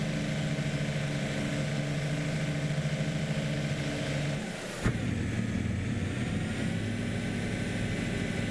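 Logging truck engine in Farming Simulator 22, a truck with apparent suspension trouble, running with a steady low drone and tonal hum that briefly dips and shifts pitch near the middle before carrying on.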